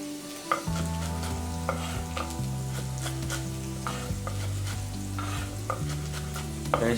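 Garlic fries in oil while being stirred in a pan: a continuous close sizzle with repeated scraping clicks from the spoon, all under steady background music with sustained chords and no talking.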